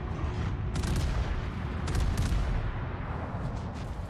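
Cruiser artillery fire in the World of Warships naval video game: a dense, continuous rumble of booming gunfire with sharp volleys of blasts rising out of it, loud and sustained throughout.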